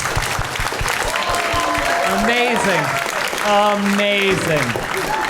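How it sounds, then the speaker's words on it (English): A live podcast audience claps steadily throughout, with people talking loudly over the applause. "Keep clapping, keep clapping."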